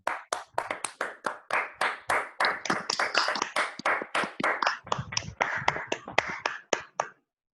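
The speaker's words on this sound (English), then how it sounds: "Give him a huge round of applause" Small meeting audience clapping in sharp, distinct claps at a brisk uneven rhythm, close and fairly sparse, ending abruptly after about seven seconds.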